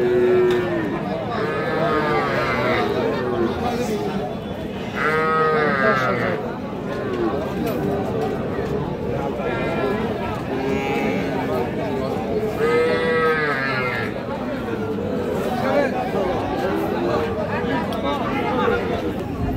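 Calves and cattle moo repeatedly, in drawn-out bellows spaced a few seconds apart. They sound over a constant busy cattle-market crowd, and people talk nearby throughout.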